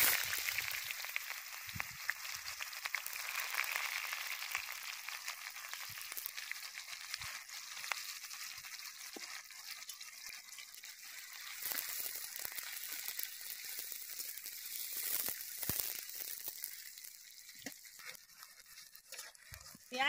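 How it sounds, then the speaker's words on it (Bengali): Chopped onion sizzling in hot white oil in a wok, a steady broad hiss of frying that carries on for the whole stretch with small crackles and pops rising and falling, close and moderately loud, no talking. "এবার আমি তেলের মধ্যে দিয়ে দেব পেঁয়াজ কুচি"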